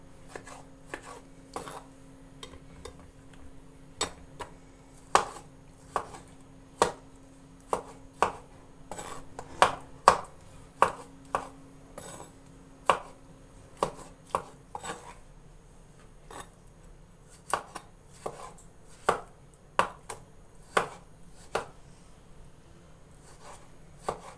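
Knife chopping peeled tomatoes into cubes on a cutting board, a steady run of sharp, close taps with brief pauses, alone without talk.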